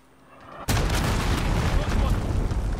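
In a video game, a cruise missile explodes with a sudden loud boom. The blast cuts off the quiet before it and is followed by a sustained rumbling roar, with voices mixed in.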